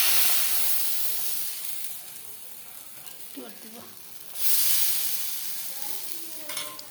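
Thin pitha fry in hot oil in a wok, giving a loud hissing sizzle that eases off and then surges again midway. Faint clinks from handling the pan come through near the end, with no talk.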